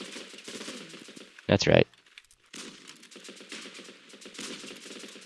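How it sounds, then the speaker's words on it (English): Long-range shotgun fire in the video game Running with Rifles: a single loud, brief blast cuts through, followed by a short silence, with someone talking before and after it. "I'm using a shotgun at long range"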